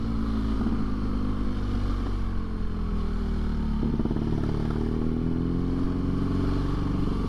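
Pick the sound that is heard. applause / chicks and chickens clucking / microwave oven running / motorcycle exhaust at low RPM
motorcycle exhaust at low RPM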